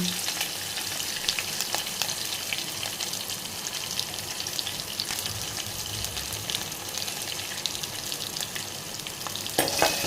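Cumin, mustard seeds, onions and curry leaves fry in hot oil, making a dense, steady sizzle close by with a crackling, watery texture that swells briefly at the end. No one speaks.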